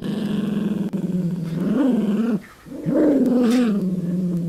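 A dog growls low and steadily up close, the rumble rising into a couple of louder snarling swells with a brief pause between them.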